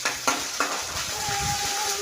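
Garlic paste frying in a pan, sizzling steadily with a few sharp clatters of utensil stirring near the start, close and fairly loud with no talk.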